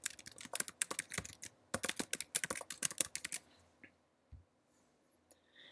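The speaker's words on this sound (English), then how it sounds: "First, type that in." Quick bursts of close, crisp computer keyboard typing clatter for about three seconds, then stop, leaving near silence with a few faint clicks.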